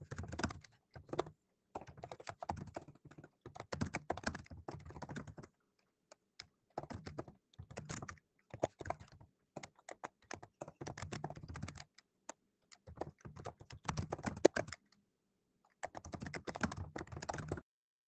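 Quick bursts of typing on a computer keyboard, close and clear, with short pauses between runs of keystrokes during a geometry lesson for competitive exam preparation; no talking.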